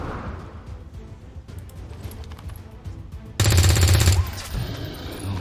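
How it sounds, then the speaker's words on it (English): SMG gunfire in XCOM 2 Long War of the Chosen: a single loud, rapid burst of shots lasting under a second over quieter ambient game sound and music. "We're going to do a little SMG shot, trying to wear them down."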